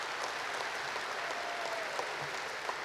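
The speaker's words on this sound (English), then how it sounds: "Please give her a round of applause." A hall of guests clapping at the Directors Guild of America awards ceremony, a fairly quiet, even patter heard from a distance with a few sharper individual claps.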